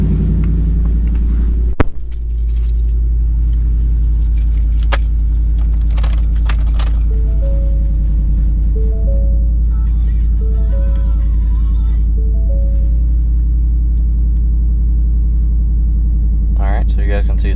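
A Ford F-150 pickup engine on a cold start idles with a deep, loud rumble through an MBRP aftermarket exhaust after a sharp door thud, holding a heavy low drone throughout.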